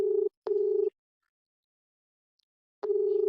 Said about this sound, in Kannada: ಓಕೆನಾ? ಕಾಲ್ ಪಿಕ್ ಮಾಡ್ತಿಲ್ಲ